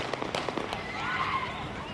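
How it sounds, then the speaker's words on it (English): A rapid series of sharp cracks and pops of gunfire, distant and echoing, erupting on the one-year anniversary of Michael Brown's death, then fading into a washy background. "that gunfire erupting"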